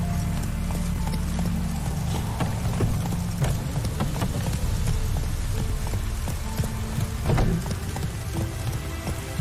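Horse galloping in The Witcher 3 video game, steady rapid hoof clip-clops under a continuous wash of rain, loud and close throughout.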